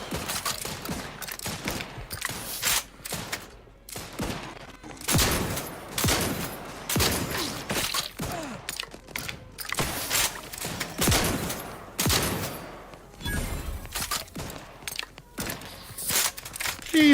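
Mortar fire and battle noise crash through a video game firefight in dense bursts, with sharp repeated impacts and rumbling booms following close together at moderate loudness.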